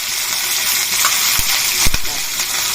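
Dried red chillies and then green chillies frying in hot oil, giving a steady close broadband sizzle with a few sharp pops and clinks from stirring.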